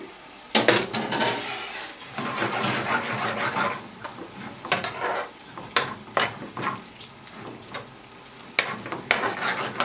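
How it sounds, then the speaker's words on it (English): A ladle of base gravy hits a hot, sizzling pan of lamb balti, followed by bursts of frying hiss, stirring scrapes and metal pan clatter that come in uneven waves, close and fairly loud, with no talking. "now we can put our next ladle of base"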